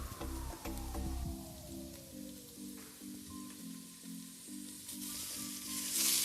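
Vegetables and peas frying in oil with onions for shavige uppittu, a steady close sizzle with faint stirring clinks and no voices.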